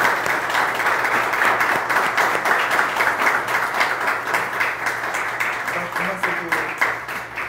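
An audience at a multiple sclerosis forum breaks into sustained, even applause, a dense wash of many hands clapping that stays loud and steady throughout.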